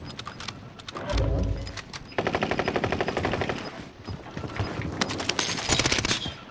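Automatic gunfire from the video game Call of Duty: Modern Warfare, with dense rapid bursts that run through most of the stretch amid other combat noise. No one speaks.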